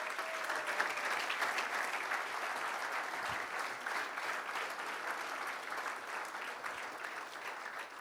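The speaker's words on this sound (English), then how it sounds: "Let's give them a round of applause," Conference audience at an African project management event applauding a corporate sponsor, steady even clapping from a large crowd lasting the whole stretch, moderately distant.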